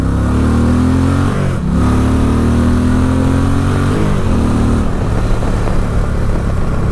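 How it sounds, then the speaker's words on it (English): An Indian Challenger motorcycle with the Power Plus engine accelerates hard, a loud, close engine roar climbing in pitch through successive gear shifts with brief dips between them. "this bike, it scoots with this new Power Plus engine"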